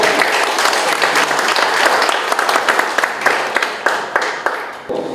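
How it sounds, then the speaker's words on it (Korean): A forum audience at a security policy event gives loud applause for a former lawmaker, a dense burst of many hands that gradually breaks into more distinct claps before tapering off. "박수, 큰 박수 한번 주세요"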